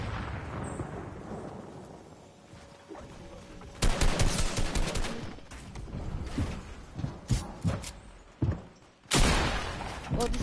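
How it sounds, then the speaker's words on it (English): Gunfire in Fortnite: a busy battle mix of repeated sharp shots and bursts, with loud cracks clustering in the middle and a heavy blast near the end, fairly close and loud throughout. "this dude almost sniped me"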